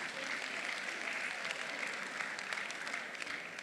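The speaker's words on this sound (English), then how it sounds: "Can we please put our hands together for First Bank?" Quiet, distant audience applause for First Bank at a plenary session on financial futures, a continuous wash of many hands clapping that stays even from start to finish.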